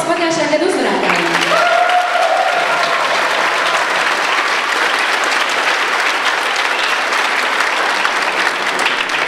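Audience at a concert applauding the previous year's winners, a dense, even burst of clapping throughout, with a short stretch of a presenter's voice at the start.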